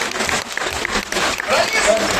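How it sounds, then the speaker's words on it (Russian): An audience at a children's New Year clown show claps in a steady burst of applause, with a host's voice heard over it. "Чтобы у них все получилось, нужно поддержать их бурными аплодисментами."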